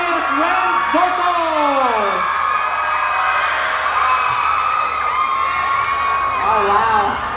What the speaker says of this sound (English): Did you see how much they scream?